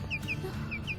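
A chicken clucks in a quick series of short, chirpy notes, four or five within a second. The calls are fairly close over a low background rumble, with no talking.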